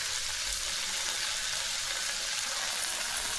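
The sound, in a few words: cooked horse gram added to frying pan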